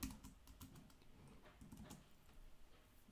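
Keys tapped on a computer keyboard, a quick uneven run of soft, close clicks in short bursts, faint and with no voice.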